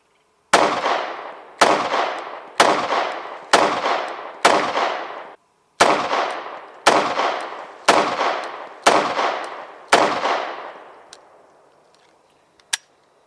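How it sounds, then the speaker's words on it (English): Smith & Wesson M&P 2.0 and aluminum-frame Model 5903 pistols firing ten loud, sharp shots, two strings of five at a steady pace, each with a ringing outdoor decay, then a final faint click. "we're just going to shoot some rounds"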